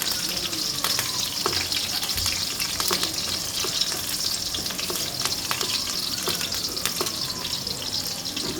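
Two green chillies frying in hot oil in a pan for palak paneer, a dense, steady sizzle with frequent small crackling pops and spits throughout, close and fairly loud, with no talking.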